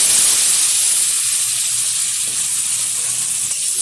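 A hilsa fish head with turmeric and black cumin seeds fries in hot oil, producing a loud, constant close hiss and sizzle with no talking.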